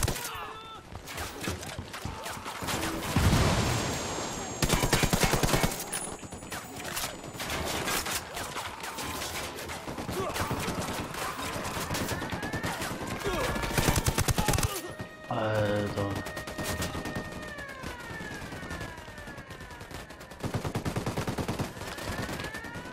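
Sniper fire in the video game Ghost Recon Wildlands: sharp shots ring out among dense, busy game sounds, with a few loud bursts spread through the stretch and a voice talking in between.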